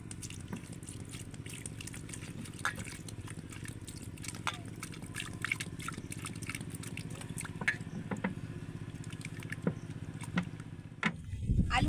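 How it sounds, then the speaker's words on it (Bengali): Potatoes being washed in water by hand, with steady sloshing, trickling and dripping close by throughout and a few louder splashes near the end. "জল দিয়ে ভালো করে ধুয়ে নেব আলু"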